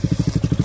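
A Royal Enfield Bullet motorcycle fires up and settles into its characteristic steady thump, evenly spaced low pulses about ten times a second, close and fairly loud with no other sound over it.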